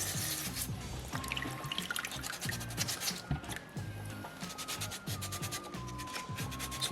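Sandpaper rubbing in short back-and-forth scratchy strokes over a small soapstone polar bear carving, close and quiet, with faint background tones under the rasping.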